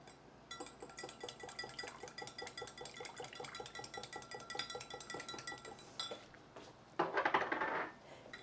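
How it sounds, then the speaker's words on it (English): Olive oil and vinegar dressing is whisked in a bowl, a quick steady run of light metallic taps and clinks, followed by a brief louder clatter near the end. "just whisk that to make an emulsion"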